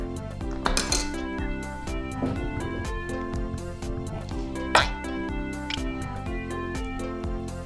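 Pasta salad with mayonnaise being stirred in a toy kitchen, with light clinks and taps of small utensils against toy dishes, several sharp knocks, over a continuous music background.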